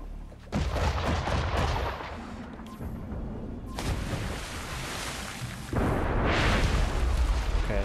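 Explosion in Assassin's Creed 3 during the destruction of Charleston, heavy booming blasts with rumbling debris arriving in several bursts over a steady battle din.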